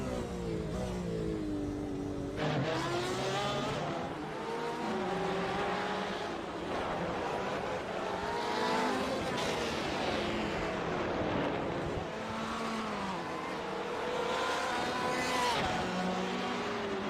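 GTE and GT4 race cars at the Long Beach street circuit, engines screaming and shifting as several cars brake hard and accelerate through a corner, loud overlapping passes with rising and falling pitch.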